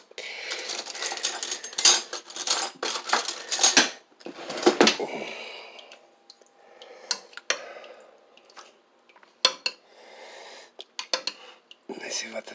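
A spoon clatters against a pot of slow-cooked beef, with several sharp metallic clinks and scrapes, loud at first and then sparser, with short pauses between knocks.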